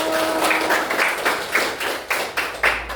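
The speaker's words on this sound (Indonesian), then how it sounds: "Tepuk tangan untuk Deo." Audience clapping for Deo at a Catholic school gathering, a scattered round of hand claps with several sharper claps standing out, moderately close and without talk.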